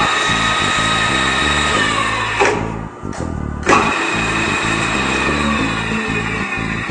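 A radial drill press motor and spindle run at a low 88 RPM in low gear. The machine gives a loud, steady mechanical drone with even harmonics, and a brief dip partway through before it settles back to the same level.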